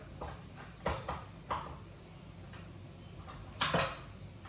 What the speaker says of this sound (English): I'm gonna start now by putting this gigantic bowl into my KitchenAid